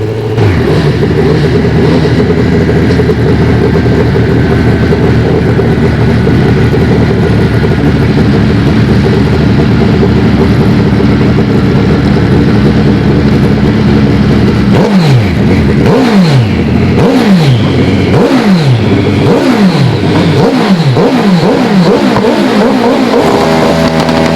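Pro Stock drag bikes at an AMA Prostar championship race down the strip, engines roaring loudly and continuously, then rising through rapid gear-change revs as they pass.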